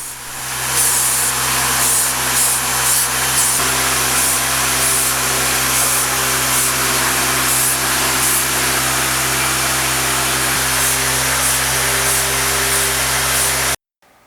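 Spray paint being applied to cleaned Trabant 601 front-axle parts, a loud, continuous close-up hiss that holds steady for about thirteen seconds before cutting off abruptly.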